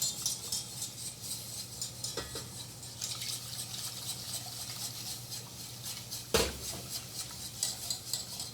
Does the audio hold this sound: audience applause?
no